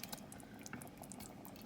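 Cottage cheese (paneer) pieces go into a boiling pea curry, a quiet, steady bubbling and sizzling of liquid with scattered small pops and splashes, faint and continuous.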